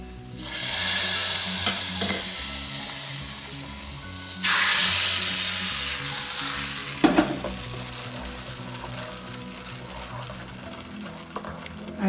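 Fried ingredients go into a pot of palada payasam with a loud hiss and sizzle, then are stirred with scraping spoon sounds and a few clinks, no talking.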